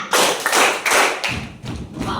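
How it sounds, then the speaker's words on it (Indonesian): A group claps in quick bursts during a classroom teaching-practice session, producing a run of sharp, fairly loud slaps in an uneven counting rhythm, with a faint voice underneath. "Tepuk satu. Tepuk dua. Tepuk tiga."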